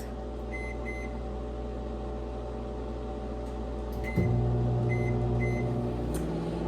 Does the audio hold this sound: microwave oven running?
yes